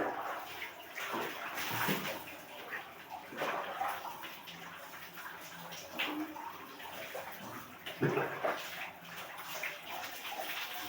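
Water splashes and pours in uneven bursts during an outdoor bath, with thick cloth soaking up the water; the sloshing is moderately near, continuous, and without speech.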